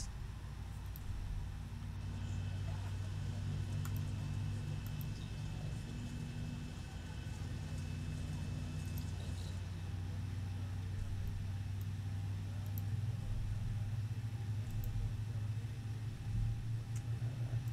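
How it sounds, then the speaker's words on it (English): Engine start of a Boeing 737 in the ZIBO 737 flight simulator game: a steady, loud low rumble and whine that holds evenly throughout, with no talk. "but engine 2 will now start."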